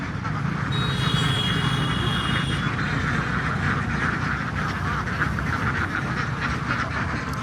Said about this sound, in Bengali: হাঁসগুলারে খাবার দিতেছে।